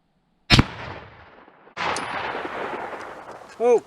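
A Winchester 1895 deluxe rifle fires a single sharp, loud shot outdoors, followed by a lingering rumbling echo, then a clack of handling noise near the end.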